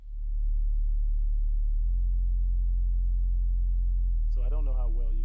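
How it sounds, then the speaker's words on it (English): Deep trap beat bass built in FL Studio, a loud sustained low sub tone that steps down partway through, with a brief rising chirpy synth figure near the end. "I don't know how well you can hear that bass, but that's usually how it comes through"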